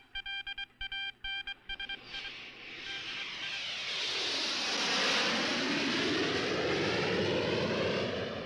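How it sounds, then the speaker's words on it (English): Jet aircraft pass overhead from the deck of a ship at sea in a 1966 film: after a few beeping radio tones, a roaring engine rush swells loud and broad, then holds steady as the planes go by. "Planes!"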